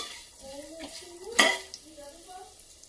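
A utensil scrapes and stirs a puffed rice masala mix with turmeric in a metal pan, soft and close, with one sharp metallic clang partway through and a faint sizzle underneath.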